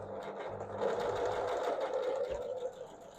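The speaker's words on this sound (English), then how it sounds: "So I'm going to just sew this on until I reach my corner" A sewing machine runs steadily, stitching a ruffle onto a fabric napkin seam, its close, continuous mechanical whir speeding up in the middle and easing off toward the end.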